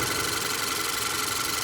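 A VW 2.0 TSI engine idling smoothly after an ignition coil misfire fix, a steady, even mid-pitched hum with fine regular pulsing, heard close and alone.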